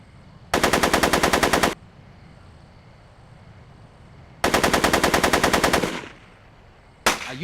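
Movie-scene machine-gun fire in two long rapid bursts of about a second each, loud and close, then a brief third burst at the end, with quiet room tone between them.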